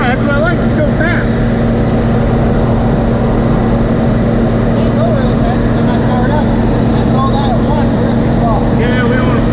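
A combine harvester running at about 750 RPM during a wheat harvest: loud, constant engine drone and mechanical rumble filling the whole clip, heard from inside the cab, with voices talking over it.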